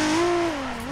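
A drift car's engine in the game Torque Drift 2 revs hard from a clutch kick, a loud sustained roar that holds high and then dips slightly, alone without talk.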